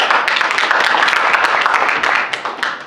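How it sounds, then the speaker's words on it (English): Dense, steady applause from a festival audience at a business pitching masterclass fills the whole stretch, many hands clapping at once at close range before fading slightly near the end. "please give him a round of applause"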